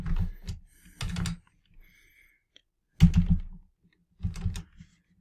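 Bursts of typing on a computer keyboard, close and clear, with quick clusters of key clicks separated by short pauses and near silence.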